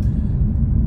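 A Honda Civic Type R engine rumbles low and steady as it starts up, a deep, close idle with no voices.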